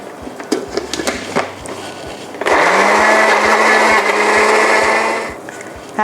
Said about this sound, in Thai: เราก็จะทำการปั่นส่วนผสมทุกอย่างให้เข้ากันนะคะ